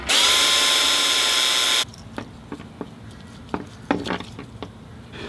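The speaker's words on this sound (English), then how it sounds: "So now we're going to go ahead and drill some holes" A loud power drill whirs steadily for about two seconds drilling mounting holes for an amplifier fuse holder, then stops, followed by scattered clicks and handling knocks.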